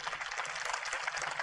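An audience claps at a spoken talk in a hall, a steady, dense patter of many hands at moderate volume with no voices over it.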